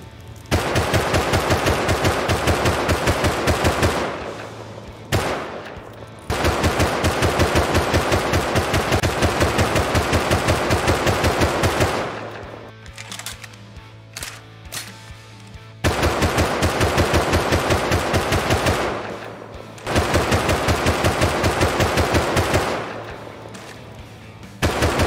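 Automatic gunfire rings out in the survival game Rust during a base raid, with long sustained bursts of rapid shots broken by short pauses and a quieter stretch midway, and no talking.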